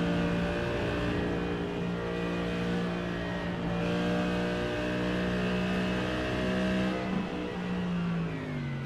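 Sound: Mercedes race car at the Bathurst 12 Hours

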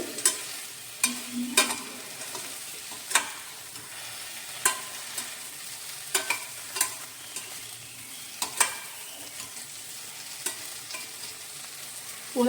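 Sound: okra and green chillies frying on low flame

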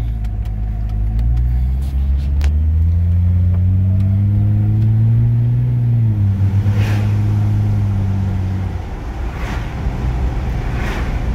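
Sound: Jeep 4.0 engine running

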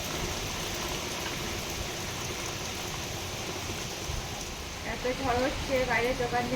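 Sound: heavy rain during Cyclone Remal in the Sundarbans

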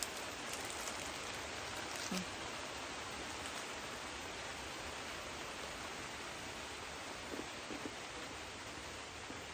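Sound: rain falling on a garden in Benguet

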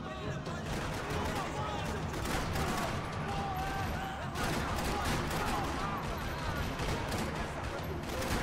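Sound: gunfire shootout in video game Max Payne 3

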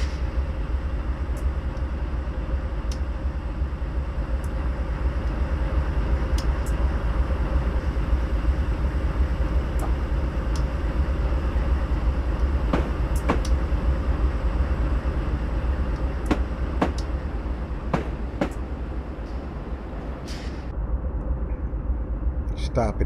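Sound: train running on rails in Train Simulator 2017 video game

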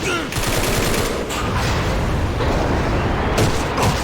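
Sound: gunfire in video game AVA

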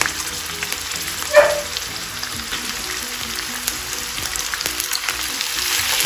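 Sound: frying goat stomach pieces with onions

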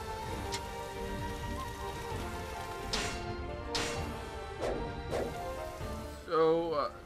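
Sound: rain in the video game Dynasty Warriors 8 Xtreme Legends

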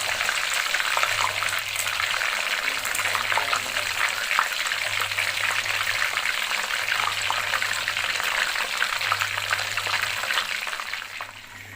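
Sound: fish frying in electric pan

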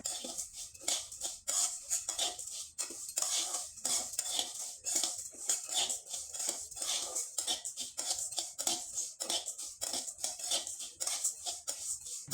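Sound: rice being stirred in a wok while dry-roasting for puffed rice

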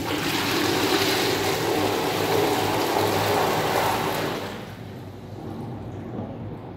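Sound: flushing a Britex toilet

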